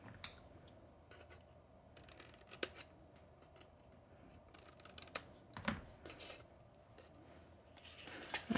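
Scissors making miter cuts on paper tabs for a shadow box, giving a few sharp snips amid faint rustling of paper, close and quiet, no voices.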